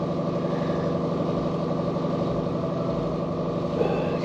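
Engine of a 1961 unibody car idling steadily after its first start-up in years, a constant low rumble with even pulsing, loud and near, holding level throughout with a faint high whine above.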